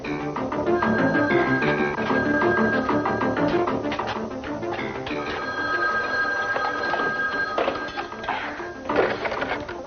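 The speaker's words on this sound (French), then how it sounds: "Mon amour, réponds au téléphone, je t'en prie, réponds au téléphone." A telephone rings repeatedly with a bright, trilling bell, steady and prominent over background music from a soap opera scene.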